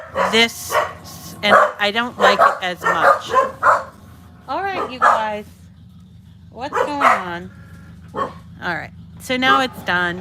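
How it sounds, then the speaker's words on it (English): A dog barks repeatedly nearby in bursts of yips and bow-wows, heard under and between a person talking during card making. "Sorry about the barking dog."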